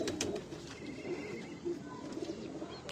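Jonsre breeder pigeons coo softly and repeatedly at close range in a loft, with low murmuring calls and faint chirps over a constant background hum.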